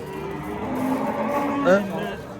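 A hybrid cow moos loudly and close by at a livestock market in Uzbekistan, a single drawn-out low call with a rising, strained ending over faint background noise.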